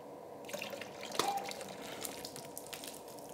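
Water drips and splashes on a surface during a messy studio shoot for reflection backplates, with one sharp splash standing out near the start over continuous close trickling and spattering.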